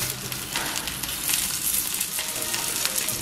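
Jowar rava billa kudumulu, gluten-free rice-ball dumplings made from sorghum grits, sizzle and fry steadily in a pan over medium heat, a continuous close crackle with no voices.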